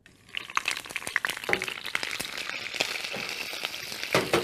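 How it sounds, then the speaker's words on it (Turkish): Chopped onion hits hot oil in a pan for an eggplant and tomato sauce dish, giving a loud, steady crackling sizzle with sharp spattering pops throughout and no talking. "Şimdi hemen soğanı içine koyuyorum."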